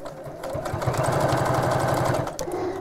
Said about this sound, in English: As you're sewing over the straps again